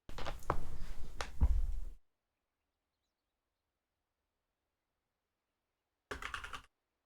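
Typing on a backup computer keyboard, a dense burst of keystrokes for about two seconds, then silence, then a second short flurry of clicks near the end.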